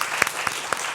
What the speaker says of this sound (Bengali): উষ্ণ করতালি তাদের জন্য